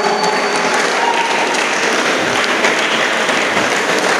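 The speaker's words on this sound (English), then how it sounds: "let's give a big round of applause to Mr. Mohammed Fayaz Faisal" An audience at a polytechnic college's annual day celebration in Mangalore gives a loud, steady round of applause, a thick, even wash of clapping that holds for about four seconds with no voices.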